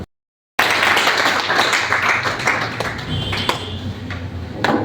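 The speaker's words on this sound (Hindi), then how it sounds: "हम कर कमलों के तालियों के साथ स्वागत करें सर का" Audience applause welcoming a guest at a public function honouring an environmentalist in Singrauli, steady dense clapping close by that fills the room, with a few louder individual claps standing out.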